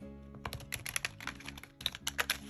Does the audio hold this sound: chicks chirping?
no